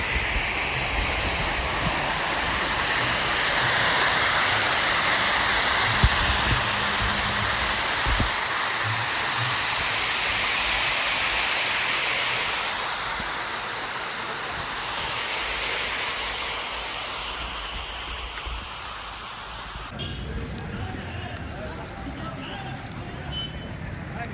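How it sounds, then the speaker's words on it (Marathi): A waterfall on the trail from Panhala to Pavankhind in Maharashtra roars continuously for a long stretch, a broad rushing wash of falling water; the tone shifts and thins slightly near the end. "वाटेत बघू शकता किती मस्त धबधबा लागला"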